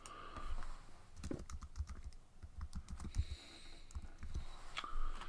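Typing and clicking on a computer keyboard, a close run of quick uneven keystrokes with a few brief pauses and sharper clicks, no talking.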